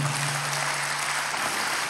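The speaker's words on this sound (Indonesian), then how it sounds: "Beri tepuk tangan untuk Tuhan." Steady applause from a crowd, a dense wash of clapping holding at an even level throughout.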